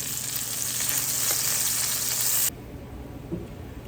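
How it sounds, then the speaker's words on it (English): Rabbit pieces brown in a frying pan with a loud, dense sizzle that drops off sharply partway through, leaving a quieter crackle and a faint stir, with no talking. "make sure we got all the rest of it browned up"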